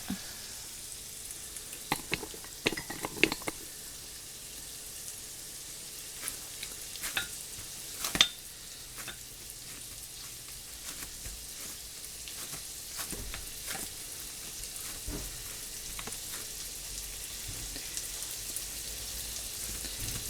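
Salisbury steak patties sizzle in a skillet, giving a steady, quiet crackling hiss throughout. Occasional sharp taps and scrapes from handling rise above it, close by, with no talking.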